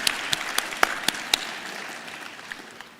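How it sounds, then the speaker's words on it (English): A summit audience of constitutional and supreme court delegates gives the Chief Justice a round of applause: a handful of distinct, sharp claps up front that quickly thin into scattered, fading patter. "could I request another round of applause, please, for the CJ?"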